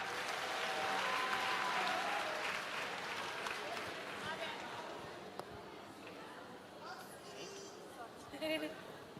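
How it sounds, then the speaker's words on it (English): Audience at a spring college graduation ceremony applauds as graduates come up, a broad crowd clapping that starts loud and gradually fades, with murmuring chatter and scattered voices underneath. "Give them a round of applause as they come up."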